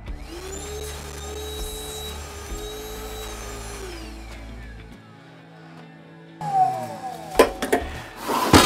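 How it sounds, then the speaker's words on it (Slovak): Ryobi R18PV-0 cordless 2-in-1 vacuum and blower motor whining steadily for about five seconds, then winding down, followed by clicks and handling knocks. "Tu je možnosť použiť zariadenie ako vysávač"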